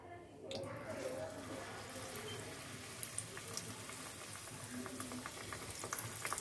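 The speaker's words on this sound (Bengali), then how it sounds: "এবারে মালপোয়া গুলো ভাজব।" Malpua batter fries in a small kadai with a continuous, fairly quiet sizzle and bubbling, with occasional small pops and clinks over the steady crackle.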